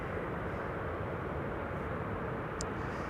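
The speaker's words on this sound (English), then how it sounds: "This is Air Canada Flight 808, arriving from Toronto, Canada." Air Canada Flight 808 from Toronto arriving at Amsterdam Schiphol Airport: a continuous, even, low jet rumble and roar at moderate distance, steady for the whole stretch with no voices.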